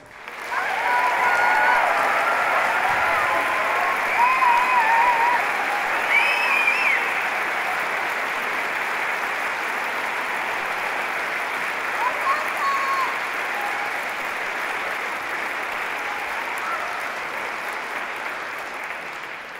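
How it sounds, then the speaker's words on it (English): Large hall audience at an Edinburgh degree ceremony giving the graduates sustained applause, a steady dense roar of clapping with a few faint cheers, lasting nearly twenty seconds. "let's just give those amazing graduates another huge round of applause."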